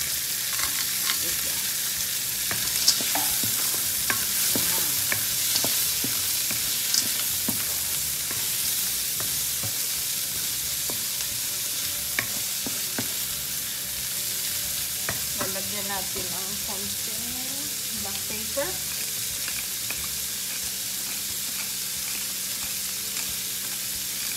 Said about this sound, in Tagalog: Lalagay na natin ang ating mixed uh, pork and vegetables.